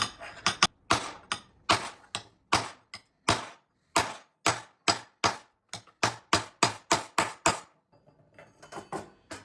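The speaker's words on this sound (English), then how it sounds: "We're hitting on wood so we don't stretch the metal." Sharp, close hammer blows strike a steel fender skirt from a vintage GM car against a wooden block, dozens of quick knocks in uneven bursts, with a brief pause before softer taps at the end.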